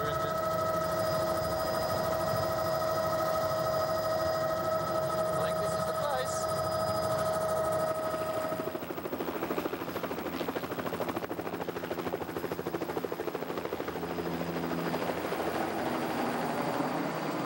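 A helicopter flies near a cliff edge and readies to land beyond some trees, its steady rotor and engine drone loud and close, holding a high whine before shifting into a rougher, broader roar.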